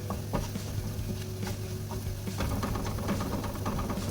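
Garlic sizzles and crackles steadily in a hot frying pan, a close, continuous fry with light stirring scrapes.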